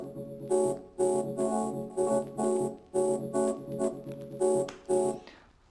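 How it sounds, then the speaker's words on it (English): A synth harmony part from an arpeggiator layered with a Piano Centric plugin pulses in rhythmic chords, with stereo imaging, compression and EQ applied. The repeating bursts are spaced roughly a second apart, moderately loud and clean, and it plays without any voice. "Together the harmony part sound like this."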